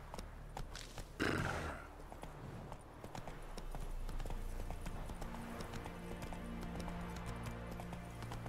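A horse in the video game Witcher 3 gives a short loud neigh early on, followed by a steady soft run of hoof clip-clops as it moves along under game ambience, with no talking.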